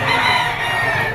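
A young rooster (stag) at the Lipa poultry auction market crows in a single sustained, loud, close call lasting about a second, with the busy market din underneath.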